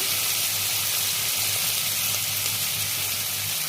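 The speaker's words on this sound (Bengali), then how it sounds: "এবারে মশলাটা আমি ভেজে দেবো" Spice paste frying in oil in a pan for a tilapia curry, giving a steady, close, loud sizzle with a busy hiss that holds evenly throughout, no voices.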